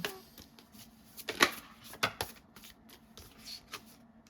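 Tarot cards shuffled by hand in a quiet room, a run of soft papery riffles and flicks with a few sharper snaps, close and alone with no talk.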